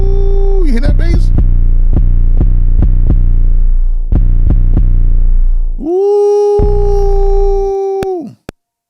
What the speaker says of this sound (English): Ooh, you hear that bass?